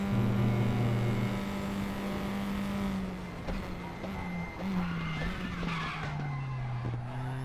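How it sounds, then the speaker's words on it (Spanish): Race car in the RaceRoom racing game, its engine droning steadily as the right front tyre locks under braking into a chicane, giving a loud, sustained skid-like squeal with shifting engine pitch and no talk. "Seeing right front locking into the chicane."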